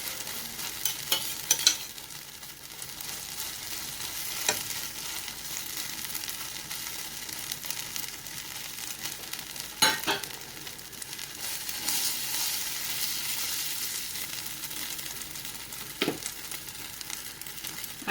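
Bread toast sizzles in a pan with butter and ketchup, a steady close hiss of frying under occasional clicks and scrapes of a spatula, with no talking.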